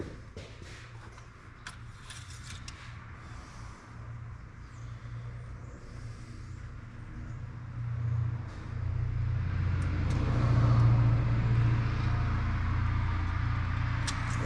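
A pickup truck engine idles steadily with a low rumble, growing slightly louder and rougher toward the end, with no voices over it.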